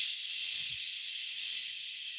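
A steady, breathy hiss like a venting steam valve continues evenly from start to finish, a sustained exhale-like sound at moderate level with no talking.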